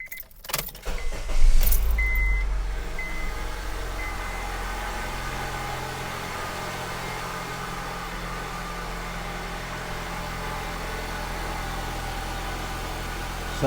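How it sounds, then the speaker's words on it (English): A car engine cranks and catches with a brief roar, then settles into a steady, continuous idle that runs on alone, close by, during crankshaft sensor testing; a few faint clinks come near the start. "Let's start the engine and see what we get."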